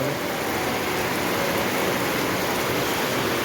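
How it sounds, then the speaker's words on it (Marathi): Steady, dense rainfall pours down without a break, a loud broadband hiss of heavy monsoon rain in Pune close by with no voices. "बघू शकताय पाऊस"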